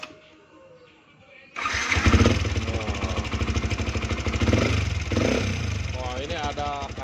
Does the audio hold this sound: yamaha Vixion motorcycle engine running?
yes